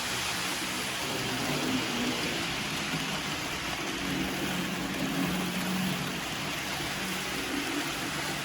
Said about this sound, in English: Not maybe the smoothest sounding engine. It sounds a slight, almost like a kind of a grinding kind of noise.